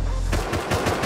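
Automatic AK assault rifle fire in Rust, a rapid burst of several sharp cracks in quick succession, loud and close, with no talk over it.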